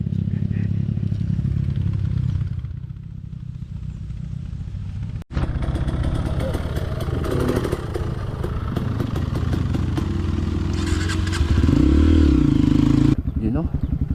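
A motorcycle engine rumbles and revs on a bumpy trail in Tacadang a week after a storm, with clattering over rough ground and a rising rev near the end.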